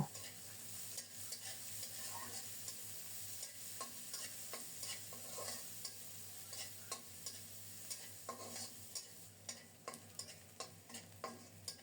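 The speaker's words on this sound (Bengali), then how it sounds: "গোটা জিরা ফোড়নে দিলাম" Steady hiss of whole cumin seeds frying in hot oil, with crackles and a regular scrape of a spoon stirring the pan up close; no voices.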